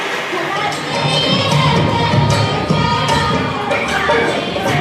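A crowd at a women's community Sawan festival gathering cheers and claps continuously, loud and dense, with excited voices and shouts mixed into the noise.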